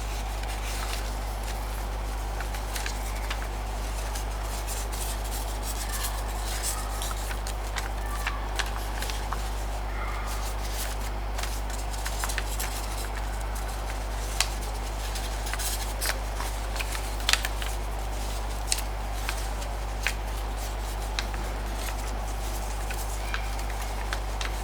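Origami paper being creased and refolded by hand while shaping an ETA-2 Jedi Starfighter model, giving soft, close crinkles and scraping rustles that continue steadily for the whole stretch with no talking.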